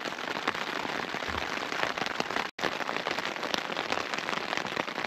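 Steady rain pattering on a tent pitched beside a loch in Scotland, a dense continuous hiss of drops close overhead with sharper individual taps, briefly cutting out for an instant midway.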